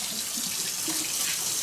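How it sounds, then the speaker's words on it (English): Cold water runs steadily from a kitchen tap while a whole organic chicken is rinsed inside the cavity and out, a close, even splashing with no talk. "I still have to wash it carefully. Inside the cavity, cold water,"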